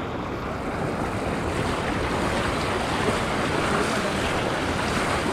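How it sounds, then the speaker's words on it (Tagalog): Strong water current rushing steadily, a dense continuous roar with wind buffeting, loud and close throughout with no break. "Ang lakas na agos."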